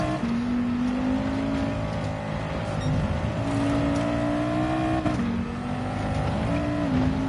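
A roughly 1,000-horsepower Audi race car in Gran Turismo 7 holds a steady, loud engine drone, the pitch shifting slightly as it rises and settles through shifts, with a faint tyre squeal.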